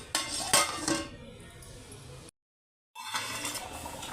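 Lid placed on a cooking pot of egg biryani, a few close metallic clinks and clanks at the start, then quieter handling sounds, a short silent gap and faint rustle.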